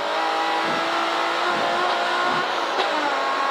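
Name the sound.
estate car driven quickly around Castle Combe circuit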